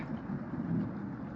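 Steady rain pours down with a low, rumbling roll of thunder underneath in the video game Cooking Companions, continuous and fairly loud throughout.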